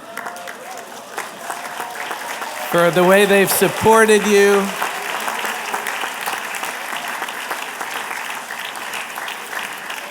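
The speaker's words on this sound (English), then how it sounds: "give your families a round of applause" Audience applause at a graduation ceremony: a dense, sustained patter of clapping runs throughout, with a speaker's voice briefly over it.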